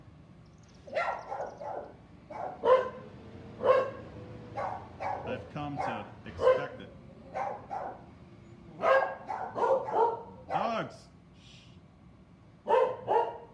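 Two dogs bark repeatedly in a backyard on an afternoon. The barks come in loud, close bursts with short yips between them, while someone talks over them.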